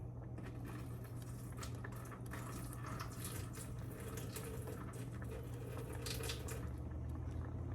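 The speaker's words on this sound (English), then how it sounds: "I think I'll dump a little bit of that water out." Water is poured out of a cooking pot while making turkey black-bean chili, a steady splashing stream with continuous trickling and rushing over a low kitchen hum.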